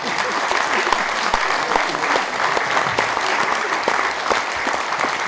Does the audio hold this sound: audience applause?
yes